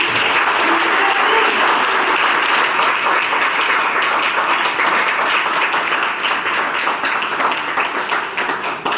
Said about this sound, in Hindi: तालियां बनती है नहीं?